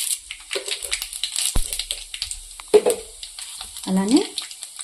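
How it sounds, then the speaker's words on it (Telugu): Tempering seeds with dried red chillies and curry leaves hit hot oil in a kadai, giving sparse crackles and sizzles broken by sharp utensil clatters, with a voice briefly heard. "ఆయిల్ అయితే వేడైందండి. తాలింపు గిచ్చులు వేస్తున్నాను."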